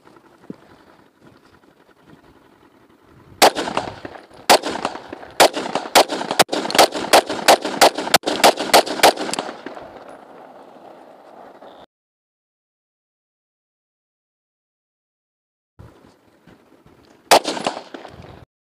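A Scorpion 30 bore 7.62mm pistol fires a rapid string of loud, sharp shots close by, about a dozen in quick succession with echoing tails, followed by silence and then another pair of shots.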